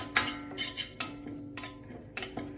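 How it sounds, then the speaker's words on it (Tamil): Curry leaves being stirred in a dry pan without oil while making rasam powder, a series of sharp metallic scrapes and clinks from the utensil against the pan, about six strokes in an uneven rhythm. "கருவேப்பிலை 4 வச்சுருந்தோம் இல்லையா, அதை லேசாக இந்த சட்டியில் ஒரு பெரட்டு"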